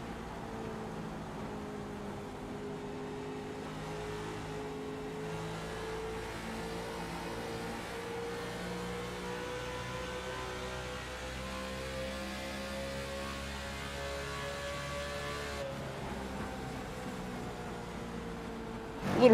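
A Chevrolet stock car engine in the iRacing video game at Homestead, heard from inside the car, drones steadily at sustained high revs for the whole stretch with a slight pitch drift and no talk.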